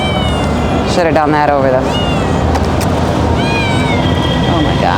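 Several cats meow repeatedly and insistently near a wet floor in a home in Egypt, loud wavering cries overlapping one another over steady background noise while a person talks.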